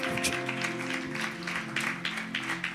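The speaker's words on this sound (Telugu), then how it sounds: "ఒకసారి బిడ్డల కొరకు చప్పట్లు కొడదాం" An indoor church audience claps for the children, a dense crackle of many hands that stays steady and fairly close for a few seconds.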